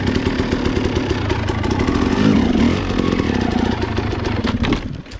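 A Husqvarna dirt bike engine revs hard and close on an uphill trail ride, a raspy buzzing roar that swells mid-way and then drops off toward the end.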